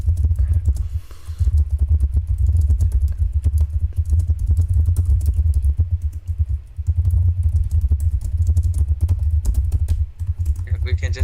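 Rapid, steady clatter of a computer keyboard during a game stream, dense keystrokes running continuously over a loud low hum, with voices talking faintly in the background.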